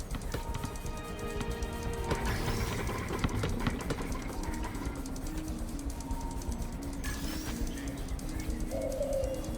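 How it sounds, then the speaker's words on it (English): A pigeon coos softly on a New York City street in Marvel's Spider-Man Remastered, faint under a constant low ambient hum of city and game background. "This pigeon's strong."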